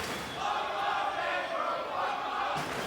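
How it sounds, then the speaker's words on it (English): A wrestling crowd at a Ring of Honor event roars steadily with dense, sustained cheering and shouting that fills the whole stretch, loud and continuous with no clear talk on top. "Listen at the crowd, already into the Necro Butcher."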